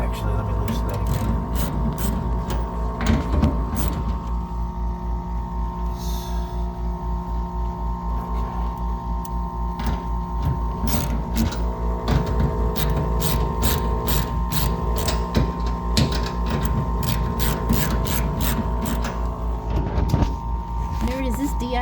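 A ratchet wrench clicks in rapid bursts while loosening bolts on a diesel fuel tank aboard a trawler, steady and close, with a low engine-like hum beneath and people talking.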